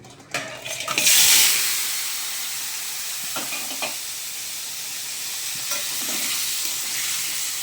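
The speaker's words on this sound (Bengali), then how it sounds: "তেল পুরো গরম হয়ে গেছে এবারে আমি কাঁকড়াগুলো ভেজে নেবো" Crabs rubbed with salt and turmeric drop into fully heated oil in a wok with a sudden loud burst of sizzling, which settles into a steady close frying hiss with faint stirring clinks.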